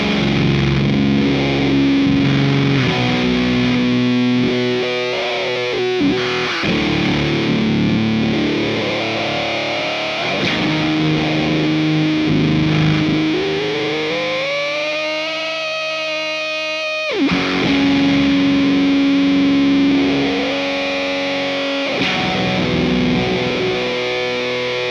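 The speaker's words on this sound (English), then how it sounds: "So here I'm going to play some chords and turn the volume in between each chord." An electric guitar through a Tortuga Wendigo Silicon Fuzz pedal strums a series of heavily fuzzed chords, with the guitar volume rolled between them so gliding, squealing tones and sputtering decays rise and fall across the passage.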